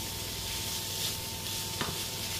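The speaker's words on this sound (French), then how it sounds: "on fait revenir ensemble les petits oignons et le bacon" Small onions and bacon sizzle together in a pan over the hob, a continuous even frying hiss with faint crackle and one brief scrape partway through.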